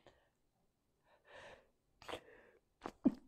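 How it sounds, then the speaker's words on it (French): A single sharp human sneeze bursts out near the end after a few quiet, gasping in-breaths, close and clear against near silence. "Je crois que je vais éternuer."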